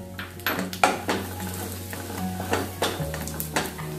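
A utensil scrapes and clinks against a frying pan in an irregular rhythm as curry leaves and roasted dry and fresh coconut powder are stirred, over a soft, steady sizzle.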